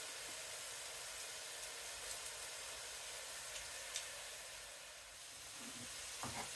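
Onion and garlic sizzle steadily in a pot for a Zuppa Toscana soup, a dense, even frying hiss that runs throughout, with a few faint clinks near the end.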